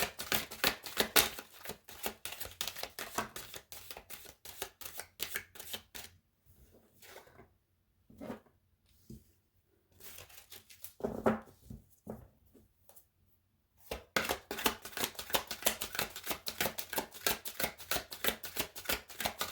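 Tarot cards are shuffled in quick riffling bursts, close and crisp, with a quieter pause of scattered taps in the middle before the rapid shuffling resumes.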